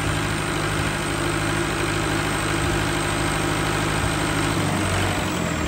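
A 30 kVA generator powered by a Tata 407 turbo diesel engine runs steadily at full load, a loud, continuous close-up drone with a low throb and no breaks or talk.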